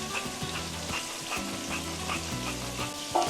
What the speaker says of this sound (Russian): Теперь закидываем остальные овощи и все активно перемешиваем.